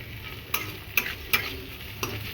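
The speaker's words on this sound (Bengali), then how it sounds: "আর পেঁয়াজটা একটু ভাজা ভাজা হলে" Chopped onions with green chillies fry steadily in a pan with oil, a soft continuous sizzle broken by a few sharp ticks and scrapes as they are stirred, close by.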